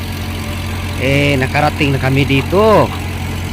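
An old boat's engine, just restored to working condition after breaking down, drones steadily and low throughout, with someone speaking over it in the middle of the stretch.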